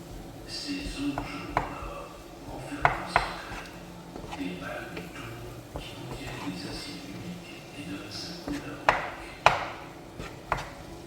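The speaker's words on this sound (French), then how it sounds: "On va bien remuer le tout." A spoon stirs a cooking mixture with ginger and turmeric in a pot, making irregular light clinks and taps against the pan over a soft background hum, with a few sharper knocks spread through.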